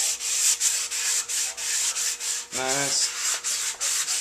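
Two-part body putty on a motorcycle is wet sanded by hand with 180-grit paper on a paint stick. The rasping back-and-forth strokes come close and steady in a regular rhythm, and a voice speaks briefly partway through.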